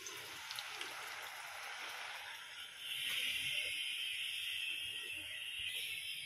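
One bowl of curd poured into a hot kadhai with garlic already in it, giving a soft steady sizzle that jumps to a louder, brighter hiss midway and holds, close and continuous with no talking.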